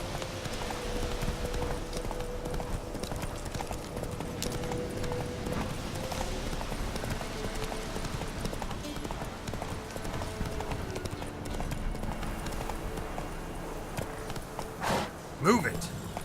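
Horse hooves clip-clop steadily in The Witcher 3: Wild Hunt, a continuous moderate trotting rhythm under voices talking throughout, with a brief louder burst near the end.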